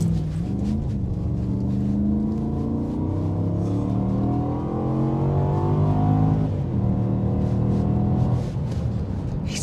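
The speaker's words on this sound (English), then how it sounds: "It sounds so muscular, that V8." A Volvo S80 with a V8 engine accelerates hard through the gears, a deep, loud, continuous roar that climbs in pitch through each gear and briefly dips at every shift.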